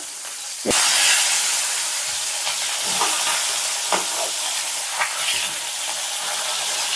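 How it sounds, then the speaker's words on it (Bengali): A large fish head frying and being broken up in hot oil: a loud, continuous hiss-like sizzle that starts abruptly, with scattered knocks and scrapes as it is crumbled. "তেলের মধ্যে খুব সুন্দর করে গুঁড়ো করে একদম ভেজে নেবো"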